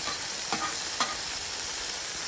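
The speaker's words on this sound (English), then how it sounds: "frying that garlic right there." Garlic sizzles steadily in hot oil on a Blackstone griddle, a soft continuous frying hiss with a couple of faint stirring scrapes.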